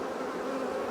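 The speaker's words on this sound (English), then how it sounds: "there's a lot of bees in the supers" Honey bees in the supers of a beehive give a steady, dense buzzing hum, close and continuous with no pauses.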